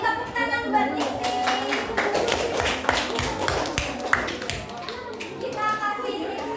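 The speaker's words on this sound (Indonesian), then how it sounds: "tepuk tangan buat Nixi" Children in a classroom clap together for a classmate, a dense patter of small hands that runs throughout at steady loudness, with a few young voices mixed in.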